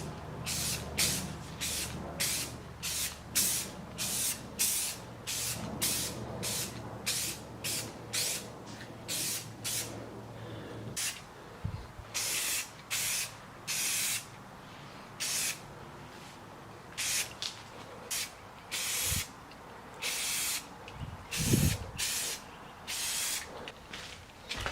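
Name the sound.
spray painting yellow coats on an engine cover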